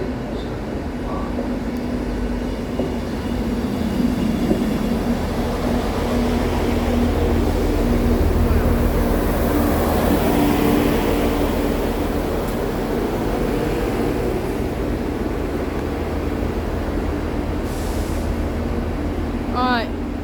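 A Great Western Railway train, the 11:13 to London Paddington, pulls out of Bath Spa station with a continuous low engine rumble and a steady hum that swell mid-way, while voices talk faintly over the noise.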